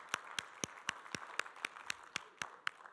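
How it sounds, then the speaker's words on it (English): A single pair of hands claps slowly and evenly about ten times, close and fairly quiet, at a conference where two volunteers are invited up, with little else in the background. "Let's give a round of applause for our two American workers and bring them up here"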